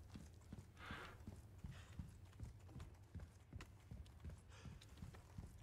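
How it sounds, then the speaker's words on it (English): Footsteps in a video game thud out in a regular walking rhythm, moderately close, with soft ambient noise behind them and no talking. "I hear footsteps. Aren't those your footsteps?"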